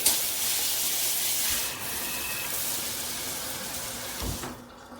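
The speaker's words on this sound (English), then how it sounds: "The water is still on because you can still see it in here." Water streams from a filtered high-pressure shower head in a steady hiss, with a brief thump near the end.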